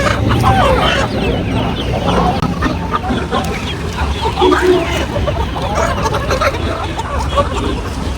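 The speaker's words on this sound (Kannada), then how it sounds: "ಸಿಟಿ ಕೋಳಿ" Chickens cluck repeatedly amid a noisy crowd of people chattering, with the steady hubbub of a busy weekly livestock market in Chandapura all around.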